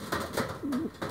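Pigeons of the Janssen Arendonk line coo in a loft, several soft throaty calls in a short rhythmic series, close and clear with no talking.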